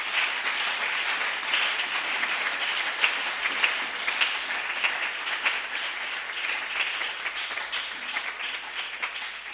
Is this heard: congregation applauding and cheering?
yes